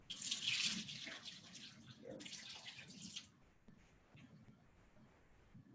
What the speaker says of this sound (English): So I'm just going to rinse this off.